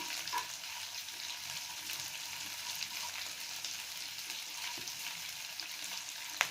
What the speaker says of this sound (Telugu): పచ్చిమిర్చి వేసుకున్న తర్వాత అవి కొంచెం ఫ్రై అయ్యాక ఆనియన్స్ వేసుకొని ఫ్రై చేసుకోవాలి